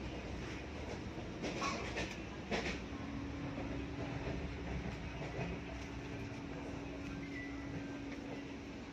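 A Vande Bharat train from Kasaragod to Thiruvananthapuram rolls steadily along with a constant rumble and rattling wheel noise, plus a faint steady hum, heard from inside the carriage.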